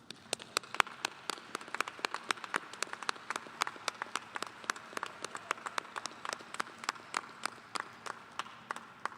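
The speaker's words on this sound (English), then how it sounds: "Let's give a round of applause for this." Audience at a college hooding ceremony clapping, a moderate scatter of individual hand claps across a quiet hall, steady and fairly faint throughout.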